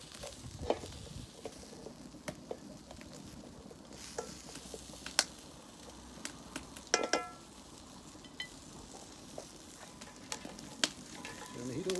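Spinach and nasturtiums fry in butter in a pan with a soft, steady sizzle. Scattered clicks and scrapes from stirring and utensils against the pan sound close but quiet.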